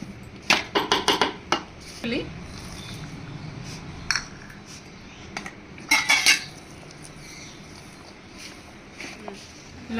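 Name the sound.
mixing mango pickle ingredients with oil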